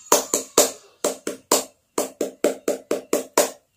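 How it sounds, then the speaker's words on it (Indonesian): A scout troop's tepuk pramuka: rhythmic group hand claps in a patterned sequence of sharp, close, loud claps, grouped in twos and threes with short pauses, alone with no talking. "Tepuk pramuka."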